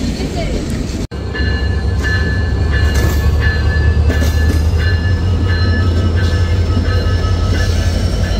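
The Madhumati Express rolls into platform 1 with a loud, steady rumble, rhythmic wheel clicks and faint metallic squeals. The noise is close and continuous, with one brief cut near the start.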